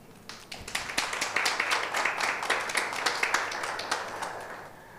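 An audience at a book launch claps for several seconds, a dense patter of many hands that swells and holds steady before tapering off.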